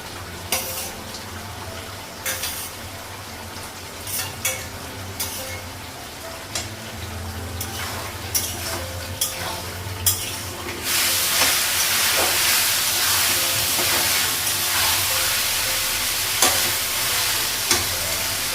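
Potatoes fry in a pan, with a few scrapes and knocks of stirring before the sizzle swells into a loud, steady crackle that runs on to the end.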